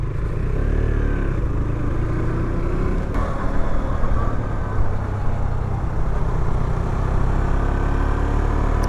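A Husqvarna Svartpilen 125 motorcycle heard while riding, its engine droning steadily and loud throughout with a low rumbling tone and no pauses or talk.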